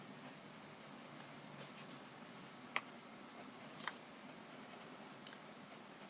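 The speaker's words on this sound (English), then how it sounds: "today's topic will be sketching on a blank page" Pencil sketching on a blank page: a faint, steady scratch of graphite on paper with a couple of small sharp taps, quiet and close with no talk.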